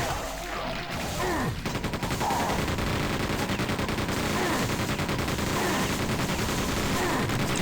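A BFG and other weapons fire in Quake 2, giving dense, rapid, continuous bursts of loud synthetic gunfire and blasts with no pause throughout.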